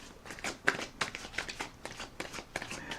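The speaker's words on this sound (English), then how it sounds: "let's get another shuffle and rifle on the cards" Tarot cards being shuffled by hand, a quick series of crisp riffling bursts in an uneven rhythm, close up.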